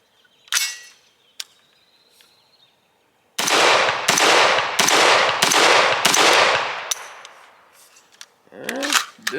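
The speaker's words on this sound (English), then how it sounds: "we're going to shoot it without the suppressor the first go around. Shooting the Fiocchi 150 grainer Supersonics." Unsuppressed Faxon 16-inch 300 Blackout AR rifle fires Fiocchi 150-grain supersonic rounds outdoors: five loud, sharp, evenly spaced cracks in quick succession with ringing decay, a couple of small clicks before and metallic clatter afterward.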